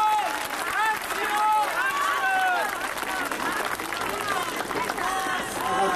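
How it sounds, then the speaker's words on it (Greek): A large outdoor crowd at a 2001 rally in Klafthmonos Square, Athens, held against the Pope's visit, breaks into sustained, dense applause with whistles and shouts mixed in, while a voice talks over it. "Ένα θερμό χειροκρότημα."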